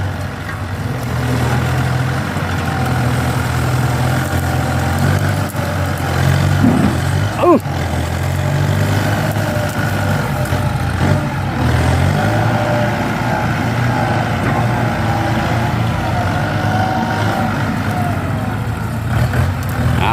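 A loud M108D tractor engine runs near and steady, a heavy continuous diesel rumble with a brief surge in revs partway through, no talk over it.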